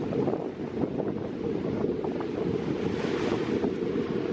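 Ocean surf washing onto a sandy beach on Con Dao island, a steady continuous roar of breaking waves with wind rushing across the microphone, fairly close and loud throughout.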